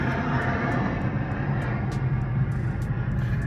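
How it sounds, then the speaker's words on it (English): Airplanes flying overhead, a continuous loud low rumbling roar of jet engines that holds steady throughout, broad and distant-sounding with no talking. "Airplanes, they've been flying all day."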